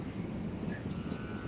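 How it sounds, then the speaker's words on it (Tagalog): Birds call in a mangrove forest, a brief, harsh crow-like cawing set against a steady background hum, fairly faint and without talk. "tunog ng mga iba't ibang klaseng ibon"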